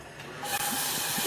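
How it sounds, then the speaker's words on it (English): Chili hitting a hot pan sets off a loud, steady sizzling hiss that starts partway through and holds to the end. "And then listen to a sizzle."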